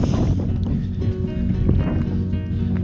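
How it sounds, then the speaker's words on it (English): Steady wind buffets the microphone on a hill on the Kepler Track in New Zealand, a constant low rumble, loud and close throughout. "It's windy"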